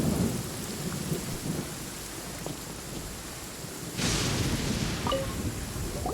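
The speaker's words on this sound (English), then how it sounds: "Oh, I don't like the rain." Steady rain and thunder in the video game Genshin Impact, with continuous rainfall on surfaces and a deep rumble that swells partway through, fairly loud and with no talking.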